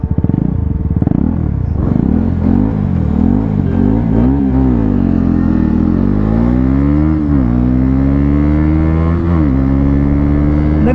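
2024 KTM Duke 250 motorcycles in a drag race, the engine revving hard and climbing through repeated rising pitch sweeps between gear shifts, loud and close throughout.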